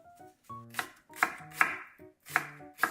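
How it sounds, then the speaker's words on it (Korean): Knife slicing an onion thinly on a cutting board, a series of crisp, close chops in short irregular bursts, about seven or eight strokes, with no talking. "양파는 가늘게 채 썰어주고"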